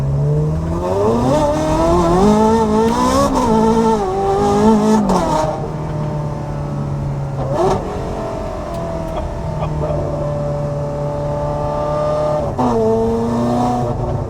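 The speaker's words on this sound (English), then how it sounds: "try and get a couple acceleration runs in so you can hear what it's like from the inside of the cabin" A Ferrari F1-style car accelerates as heard from inside the cabin, its high-pitched engine climbing through several sharp gear changes, loud and close, then settling into a steady drone before another rising rev.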